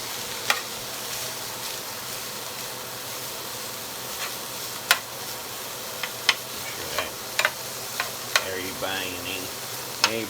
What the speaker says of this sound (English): Put the sausage on. Going to let that cook for a couple of minutes